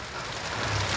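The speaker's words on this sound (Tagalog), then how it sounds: "Ang lakas ng ulan." Heavy rain pours down steadily during an outdoor bird hunt, a dense continuous hiss that builds slightly louder toward the end with no talk over it.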